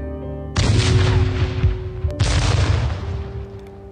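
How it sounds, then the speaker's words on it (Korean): Gunfire at the 1947 March 1st anniversary ceremony in Jeju, heard as two loud sustained bursts of noisy shots with crowd commotion, a brief gap between them, over a steady low drone. "총성이 이렇습니다."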